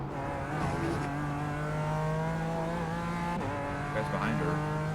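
Race car engines in the iRacing sim at the Nürburgring 24, a BMW M4 GT4 among them, with a steady droning tone and a shifting whine as a faster car closes in. Drivers talk quietly under it.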